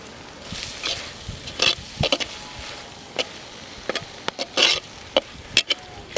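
A spoon scrapes and knocks irregularly against a frying pan while spices and ginger garlic paste are stirred, with a faint sizzle under short bright clinks and scrapes, close and with no talk.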